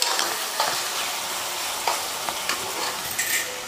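Brinjal pieces fry in hot oil with chilli paste, giving a steady, close sizzle broken by occasional scrapes and knocks of a stirring spoon.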